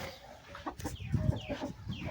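Chickens cluck repeatedly close by, short throaty calls in an irregular series with some farmyard background noise.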